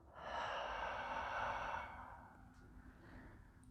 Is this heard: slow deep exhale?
yes